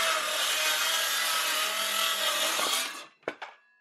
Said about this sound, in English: I should be able to cut this out and have another side of the step